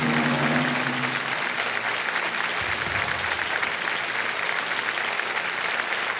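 A studio audience on a TV quiz show claps in dense, continuous applause that stays loud and even from start to finish, with a faint low murmur early on.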